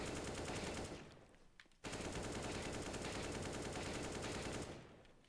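An M4A4 rifle sprays in CS:GO, two sustained bursts of rapid automatic fire with a brief pause between them, close and steady with no voice over it.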